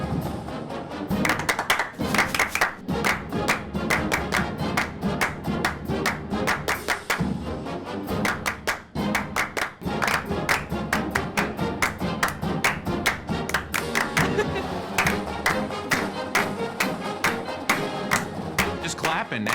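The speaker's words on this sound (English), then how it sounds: "Just clapping now." Rhythmic hand clapping keeps a steady beat for about twenty seconds over music, loud and close throughout, with some talk mixed in.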